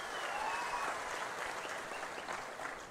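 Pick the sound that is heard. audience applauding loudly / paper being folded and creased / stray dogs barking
audience applauding loudly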